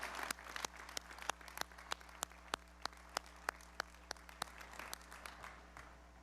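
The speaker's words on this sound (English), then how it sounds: "Please give our UNL Jazz Singers another round of applause." Applause for the UNL Jazz Singers at a May 2023 undergraduate commencement ceremony in a large venue. Sharp individual claps ring out at a steady rhythm over a low hum, faint and distant throughout.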